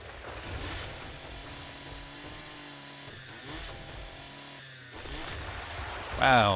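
A chainsaw cuts through enemies in the survival game 7 Days to Die, its motor buzzing and revving in uneven bursts, with a loud surge near the end and game noise mixed in.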